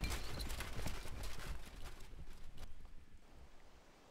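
Horse hooves of mounted troops in the video game Stronghold Legends clatter in a steady, busy clip-clop, fairly loud and continuous with some wind-like noise, without talk.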